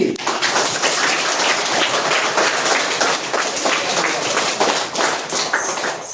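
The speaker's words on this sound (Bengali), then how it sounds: "লাগাও জোরে হাততালি" A crowd of schoolchildren claps loudly and continuously at a Children's Day magic show in a school, a dense, close and sustained burst of applause.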